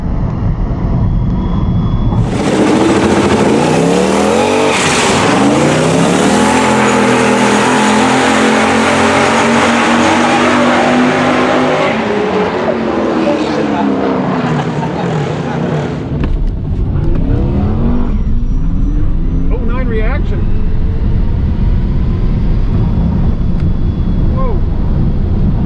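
Drag race cars launch down the strip, including a Tesla Plaid against trailered cars such as a blown F-150 and a big-tire Nova, with a loud roaring engine sweep that rises and fades over several seconds, followed by lingering crowd and track noise.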